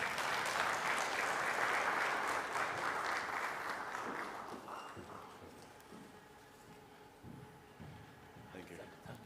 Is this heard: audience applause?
yes